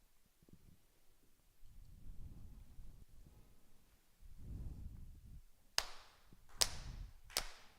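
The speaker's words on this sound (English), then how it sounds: "4 sincere claps." Sharp hand claps ring out in a quiet worship hall at a Konko shrine service: three crisp, evenly spaced claps near the end, heard alone over low room rumble.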